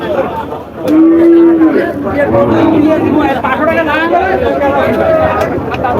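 A thin, bony deshi-breed cow gives a single low moo at a busy cattle market, with steady crowd chatter and voices around it throughout.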